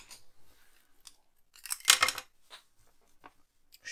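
Scissors snip through a blue ribbon while a card is being made, giving a few quiet scattered clicks and then a short, louder cluster of crisp cutting sounds, with no talking.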